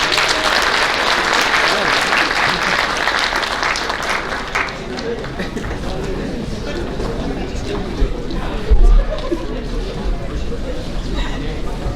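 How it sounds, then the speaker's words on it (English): Sustained applause from a large audience at a high school athletic banquet, honoring the girls' team, with steady clapping and crowd chatter mixed in, dense and loud throughout before easing slightly toward the end. "Let's give them one more round of applause."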